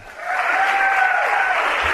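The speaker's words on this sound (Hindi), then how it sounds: "उनके लिए जोरदार तालियां" Loud, dense audience applause at a business success-story seminar, steady throughout with a faint sustained tone running through it and no talking.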